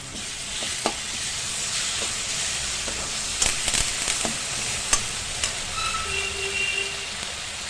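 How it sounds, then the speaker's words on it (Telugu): Onions fry in a pan with ginger garlic paste, a moderate steady sizzle and hiss with a few sharp clinks and stirring scrapes, close and without talk. "ఇప్పుడు కొంచెం వేగిపోయినాయి కదా, అల్లం వెల్లుల్లి పేస్ట్ వేసా."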